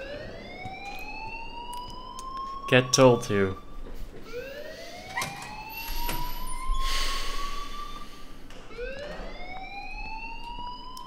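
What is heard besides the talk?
alarm ringing in the video game Life Is Strange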